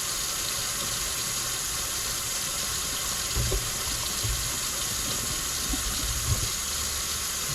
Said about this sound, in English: I'm running cold water in this sink